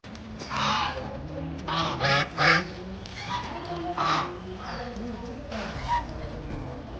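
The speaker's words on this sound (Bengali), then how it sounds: "তোমরা হাঁসের ডাক আই থিঙ্ক শুনতেও পাচ্ছ দেখো কি বড় বড় রাজ হাঁস এখানে" Large geese honk repeatedly nearby in loud, uneven bursts at a sea beach, with a few calls overlapping and people talking faintly in the background.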